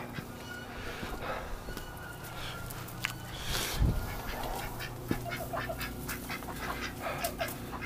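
Ducks quack repeatedly in short bursts at a farm with an animal hospital, moderately loud and close, over steady background noise and a few thumps.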